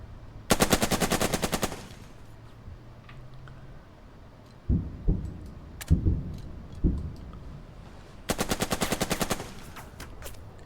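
Two long bursts of rapid machine-gun fire ring out in the strategy war game Burden of Command, with a few heavier single shots and impacts between them, all loud and close.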